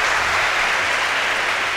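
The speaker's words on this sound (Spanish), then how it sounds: "El gran aplauso del Polideportivo" Sustained crowd applause fills an indoor sports hall during a women's knockout bowling tournament, loud and steady throughout with no talk over it.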